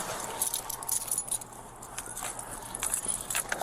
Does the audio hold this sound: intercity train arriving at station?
no